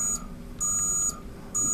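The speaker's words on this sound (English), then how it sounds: "why'd you set the alarm?" An alarm clock in a honeymoon bedroom sounds three evenly spaced, sustained electronic beeps, loud and close, with no talking over it.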